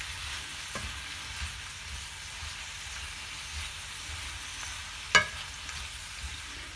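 Peperonata peppers fry quietly in a pan under a steady low sizzle, broken by an occasional sharp scrape or clack as they are stirred, one louder knock near the end.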